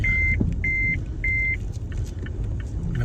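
Three evenly spaced electronic warning beeps from a car's dashboard alert for cold, slippery tires in snowy Canadian winter, sounding clearly over a steady low engine rumble inside the vehicle.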